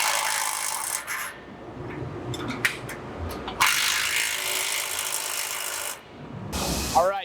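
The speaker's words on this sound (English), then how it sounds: "provide that weight while someone else tightens up the 2 bolts on the mount" Bolts on a PS160 Y axis belt mount are tightened with a breaker bar, giving close, loud ratcheting clicks and grinding metal rasps in bursts with brief pauses between.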